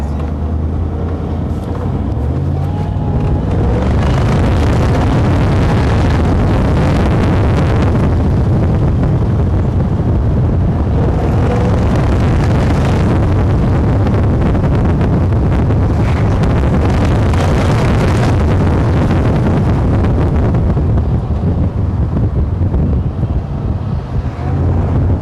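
Heavy wind roar and engine rumble fill an open-top Mercedes SLR Stirling Moss under acceleration, a loud, sustained buffeting that swells and eases over a long stretch of driving.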